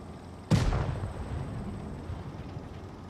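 One heavy tank cannon shot in the World of Tanks Blitz mobile game booms out suddenly and loudly, then a rumbling tail slowly decays over the next couple of seconds.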